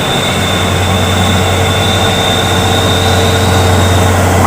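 A Hino 500 truck engine laboring up a hill, a loud, steady low drone with a constant high whine running through it, unbroken and close for the whole stretch.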